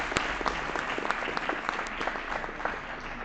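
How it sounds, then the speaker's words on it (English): Students and guests at a school prize-giving ceremony give a hearty round of applause, steady crowded clapping with sharp individual claps standing out throughout. "May you please give yourselves a huge round of applause."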